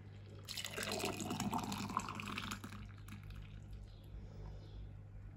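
Plum juice pours into bottles with a close, splashing, trickling stream that is strongest early and tapers into softer drips.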